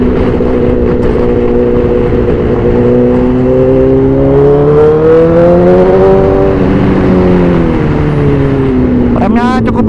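A 2012 Honda CBR1000RR 20th Anniversary sportbike with a quick shifter accelerating on a test ride, its engine note climbing steadily in pitch, dipping at a gear change, then rising again, loud and close with wind rush.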